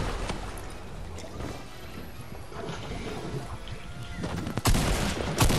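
A grenade goes off in an online multiplayer shooter game, landing right on the player. It comes as a loud, close burst near the end, after a stretch of rattling gunfire and background game noise.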